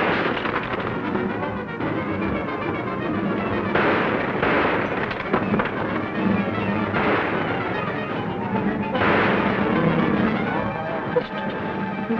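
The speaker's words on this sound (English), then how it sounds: "What are you shooting up in the sky for?" Gunshots fired up into the sky in a 1941 western film, a loud run of repeated reports and booming cracks over a rough, noisy old soundtrack.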